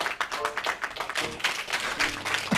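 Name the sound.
recorded applause sound effect played on show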